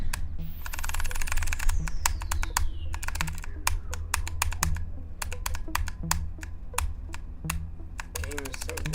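Computer keyboard clicking during gaming, a steady rapid stream of sharp close keystrokes at fairly regular intervals, with a low background hum and occasional bursts of faster typing.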